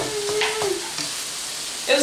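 Beef browning in a frying pan gives a steady, close sizzle and hiss, broken by a few scraping stirs and brief clinks.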